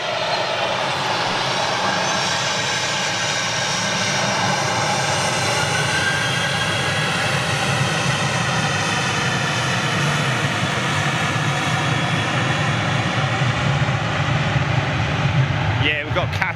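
A Qatar airliner on the runway at Manchester Airport produces a steady, loud jet engine roar with a whining tonal layer that slowly shifts in pitch, running continuously throughout.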